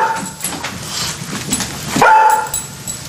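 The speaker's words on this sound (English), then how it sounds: "Good dog, Briscoe." An indoor dog barks and whimpers close by, a short whiny yip rising in pitch partway through over low room noise, with no talking.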